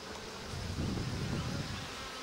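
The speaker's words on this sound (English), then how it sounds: "they're obviously active. Bees are flying everywhere." Honey bees buzzing around a crowded hive in a Minnesota food forest, a continuous low drone of many insects that swells slightly in the middle, close and fairly quiet, with no talking.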